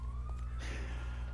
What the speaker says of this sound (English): No, that's probably the ambulance rolling in.